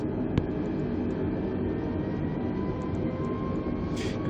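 An Airbus A320neo's engines roar steadily through the takeoff roll at La Palma, a broad, even rumble with a brief click near the start and no talking.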